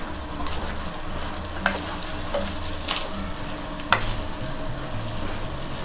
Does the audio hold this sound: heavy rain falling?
no